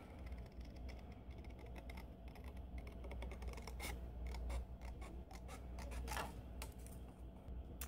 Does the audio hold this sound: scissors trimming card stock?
yes